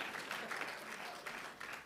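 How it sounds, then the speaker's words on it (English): Quiet audience clapping at a church gathering, a soft steady patter of many hands heard from a distance, fairly faint and unbroken throughout. "give him a clap"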